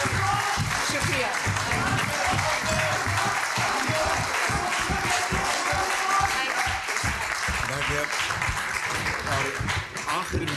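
Crowd at a political rally breaks into sustained, dense applause, loud and close, lasting the whole stretch with a speaker's amplified voice faintly mixed in.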